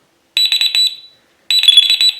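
A carp fishing bite alarm gives two loud bursts of rapid, high-pitched electronic beeping. The bursts are separated by a short silence, and no voices are heard.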